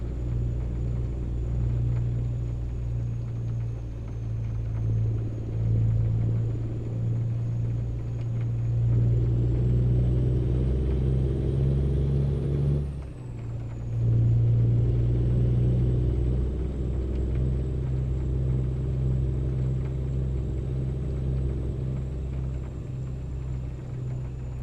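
Deep, continuous rumble of a truck engine running through open exhaust pipes, swelling as it revs and briefly dipping partway through, heard up close from inside with no talking.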